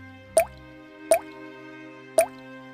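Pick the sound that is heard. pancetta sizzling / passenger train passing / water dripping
water dripping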